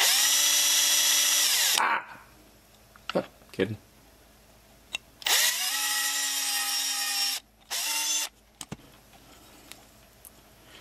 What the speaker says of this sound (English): I'm not drilling all the way through this one